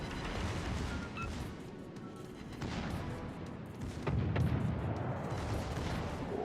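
Warship gunfire rings out in World of Warships: Legends, with a few distant booming salvos and scattered cracks over a steady battle rumble. The bursts are moderately faint, and the heaviest volley lands near the end.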